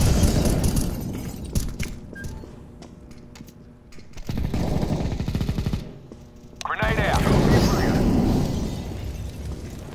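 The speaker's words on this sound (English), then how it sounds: "Throwing a flashbang." Flashbang and grenade blasts in Counter-Strike: Global Offensive, loud and close, mixed with heavy in-game gunfire bursts and a player talking throughout.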